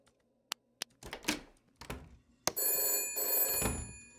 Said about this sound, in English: And now, a phone's gonna ring.